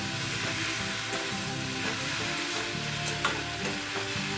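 Boiled raw jackfruit and potato fry with already-fried shrimp in a pan, a loud continuous sizzle broken by scraping stirs and small pops, with no talking.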